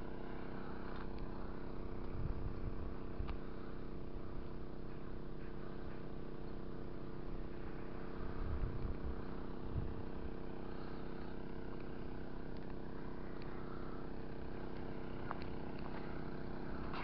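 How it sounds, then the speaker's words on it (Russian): A small motorboat engine rattles faintly on the Kaliningrad canal, a steady distant putter under open-air ambience with no talk. "Там какая-то моторка тарахтит."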